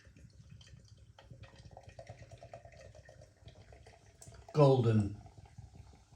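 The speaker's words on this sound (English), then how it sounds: "Golden coloured beer on the pour." Polish lager, a cheap golden beer, is poured into a glass in a short, fairly loud gurgling burst near the end, after a stretch of quiet room noise.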